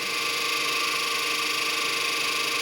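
A steady electric motor hum with a constant high whine and faint scratchy brush noise, unchanging throughout.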